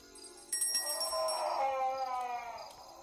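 A ringing, bell-like electronic tone from the video game Granny 2 swells and holds for a couple of seconds with a wavering, howling quality, then fades, with no talking.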